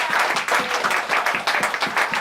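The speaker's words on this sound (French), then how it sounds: "Donnez une acclamation à Dieu." A congregation claps at a Friday prayer vigil, a fairly loud, pulsing applause with a rhythmic, slightly uneven beat and no talking.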